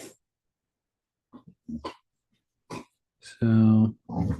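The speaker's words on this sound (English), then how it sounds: "may hear my dog in the background" A dog barks and growls in short bursts near a speaker, including one louder, sustained bark, with talking at the start and finish.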